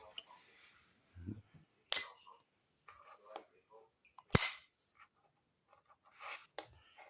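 A high polish brass Zippo Armor lighter lid snaps open and shut in a few sharp, close metallic clicks, with quiet talking between them.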